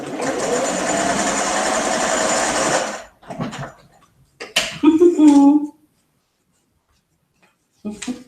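Sewing machine stitching quilt pieces for a row-by-row mystery quilt, a steady close whirring run for about three seconds, then short bursts and a brief voice before quiet.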